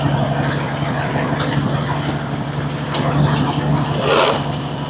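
A homemade log skidder's engine runs at a steady idle with a low rumble, rising slightly as gears are shifted, with a person speaking faintly over the machine.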